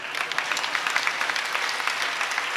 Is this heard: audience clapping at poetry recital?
yes